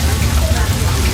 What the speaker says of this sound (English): Rain effects, such as they are, can be done with water sprinklers.